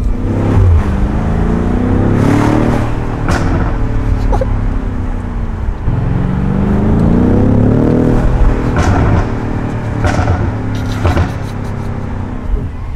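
A BMW M5 Competition F90 with its twin-turbo V8 revving on a Paris street, loud repeated throttle blips that swell and fall in several rising sweeps, with sharp exhaust pops between revs.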